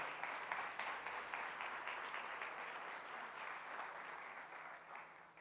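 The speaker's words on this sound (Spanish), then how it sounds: "Un fuerte aplauso al Señor, por favor." A church congregation applauds steadily and fairly loudly throughout, a dense wash of many hands clapping together, at an Argentine campus service.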